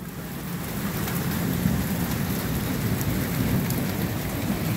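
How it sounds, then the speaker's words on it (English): Steady rainstorm with broad hiss of rain falling on surfaces and a low rumbling thunder undertone, continuous and fairly loud throughout, no voices. "In a rainstorm."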